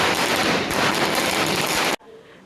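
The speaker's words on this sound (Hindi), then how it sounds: "लोग पटाखे फोड़ रहे होते हैं" Firecrackers burst on the morning of Ashtami during Durga Puja: a dense, rapid barrage of crackling pops fills most of the moment, then cuts off sharply to a much quieter background.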